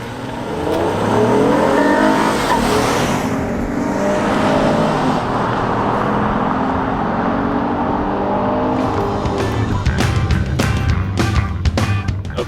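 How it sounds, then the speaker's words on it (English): Audi Q7, Acura MDX or VW Atlas SUV with a 2.0L turbo launched at full throttle in sport mode for a drag race, a loud sustained engine roar building steadily, with sharp clicks and rattles near the end. "Sport mode on the transmission, and I'm just gonna floor it."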